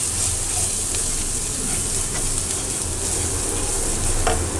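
Ground spices, coriander, chili and turmeric, fry in hot oil in a pan for a Bengali chicken curry, giving a steady, loud, close sizzle and hiss that holds throughout with faint stirring scrapes.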